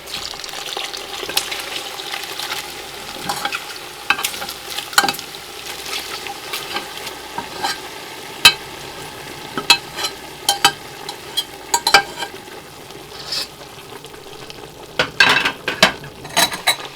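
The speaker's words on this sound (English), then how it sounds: "So we're going to let those finish kind of frying until they're a little more crispy." Diced odds and ends frying in a pan for jambalaya, a steady close sizzle broken by scattered clicks and scrapes of stirring, with no voices.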